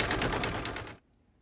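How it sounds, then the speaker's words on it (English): An embroidery machine stitches a pink heart design on a card with a rapid, rattling run of needle strokes that stops abruptly after about a second, leaving near silence with a faint click. "I'm gonna let it stitch out, and I'll resume the video once it's done"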